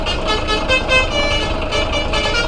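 A Basuri telolet horn on a modded Andromeda Reborn bus in Euro Truck Simulator 2, its funnel mounted on top, plays a continuous, melodic multi-tone honk over a low engine rumble, loud and close with no talking.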